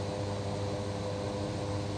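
A Cessna SkyCourier propeller engine in a VR flight simulator game holds a steady drone at about 1500 RPM, a constant, even hum with no talk.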